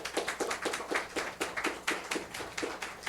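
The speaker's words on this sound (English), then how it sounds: "Give him a big hand of applause." Light, quiet applause from a small audience at a sound-spa meditation concert, welcoming a multi-instrumentalist, with irregular rhythmic claps and no talking.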